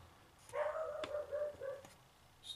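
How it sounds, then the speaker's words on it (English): A dog barks and whines a few times indoors amid work on an AR-15 rifle, a short tonal yelp stretched over about a second, moderately loud, with faint clicks around it. "Stupid dog."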